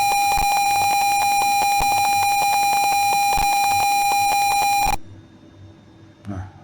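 An Arduino buzzer in an automatic garden watering simulation sounds a loud, steady electronic tone for about five seconds, then cuts off abruptly, leaving quiet with a faint rustle.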